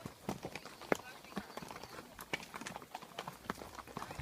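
Horse hooves clip-clopping at a slow pace during a trail ride in a valley, a steady run of soft, close hoof strikes with a rider's voice talking over them.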